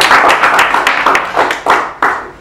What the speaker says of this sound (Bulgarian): аплодисменти за Гергана